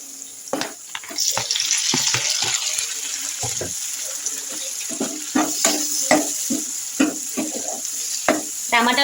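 Capsicum curry with tomatoes sizzles steadily in a hot pan while a spoon scrapes and stirs in frequent sharp clatters, close and loud throughout.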